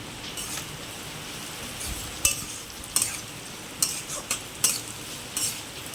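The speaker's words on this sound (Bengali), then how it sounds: "একটু ভাজা হোক, তাতে দেবো আবার আদা কুচি" Chopped ginger and garlic sizzle quietly in a pan while a utensil clinks and scrapes several times, irregular stirring strokes over the frying hiss.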